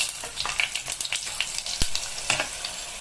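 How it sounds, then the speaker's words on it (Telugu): Mustard seeds spluttering in hot oil in a traditional home kitchen, a close crackle of rapid sharp pops and sizzle, irregular and busy throughout. "ఆవాలు చిట్టుపట్టలాడుతుంది కదా"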